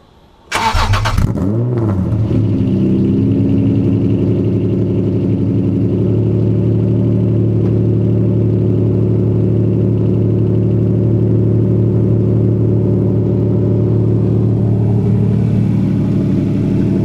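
A straight-piped JDM Honda NSX fires up with a sharp starter crank, then settles into a loud, deep, steady idle with a rumbling low drone that holds evenly to the end.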